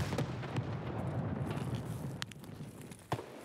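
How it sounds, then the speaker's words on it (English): Grenades go off in the video game Escape from Tarkov: two muffled, mid-distance blasts land about a second apart over a low, rumbling game background. "That's a lot of grenades."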